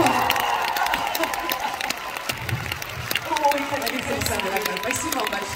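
A large concert crowd at Crocus City Hall applauds and cheers after a song, a broad wash of clapping and shouts with an amplified voice and some tonal sound rising over it toward the end.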